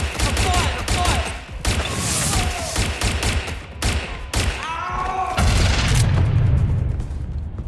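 Fiery explosions and booming gunfire in the video game Watch Dogs: Legion, with dense bursts and thuds throughout and a heavy low rumble swelling near the end.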